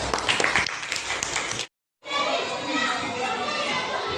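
Classroom of children applauding after a quiz, lively clapping mixed with excited kids' voices and chatter, cut by a short silent gap before the noisy clapping and chatter resume.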